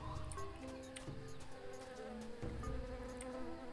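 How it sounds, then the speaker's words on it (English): Bees buzz continuously in a dense, droning swarm in the video game Tales of Monkey Island, overlapping hums wavering in pitch, fairly close and steady. "Okay, so that's bees."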